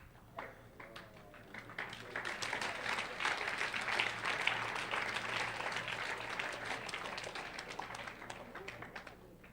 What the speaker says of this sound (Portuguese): nós batemos palmas